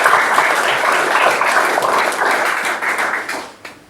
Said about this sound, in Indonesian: kita rasakan syukur dengan tepuk tangan kita.